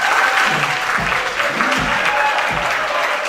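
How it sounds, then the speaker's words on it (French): Applause from an audience at a French vocal competition quarter-final, a steady dense wash of clapping throughout with some low voices or noises mixed underneath. "Je voudrais que vous applaudissiez très fort pour Mela,"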